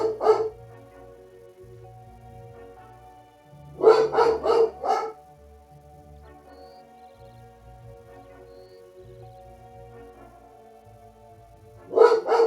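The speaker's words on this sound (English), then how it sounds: "What are you barking at, bro?" A dog barks in three clustered bursts of rapid barks, near and loud, separated by long stretches of quiet low background hum.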